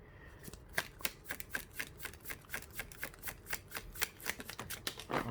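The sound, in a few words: shuffling tarot cards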